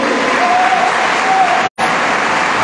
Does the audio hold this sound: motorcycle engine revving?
no